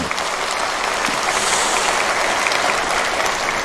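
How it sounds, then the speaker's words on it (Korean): A church congregation at a Sunday worship service claps together in thanks, a dense, steady wash of applause from many hands filling the room evenly from start to finish. "지난 6개월 동안 우리 가정 또 교회 우리 일터를 지켜주신 하나님께 감사의 박수를 한번 드리겠습니다"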